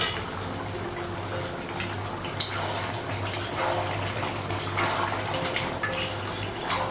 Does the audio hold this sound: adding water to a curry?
yes